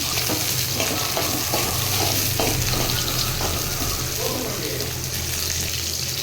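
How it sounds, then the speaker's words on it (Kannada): Medium onions and ten to fifteen green chillies fry in a few spoons of oil for a large batch of chicken fry, giving a steady, close, dense sizzle with occasional stirring scrapes throughout. "ಮೀಡಿಯಮ್ ಸೈಜ್ ಒಂದು 4 ಈರುಳ್ಳಿ ಹಾಕ್ತಾಯಿದ್ದೀನಿ."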